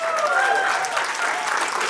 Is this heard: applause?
yes